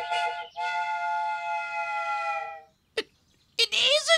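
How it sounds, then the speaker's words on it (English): Cartoon toy train whistle giving a sustained, bright choo-choo tone that holds for about two seconds, followed by a couple of brief, sharp sounds. "Is that a choo-choo train?"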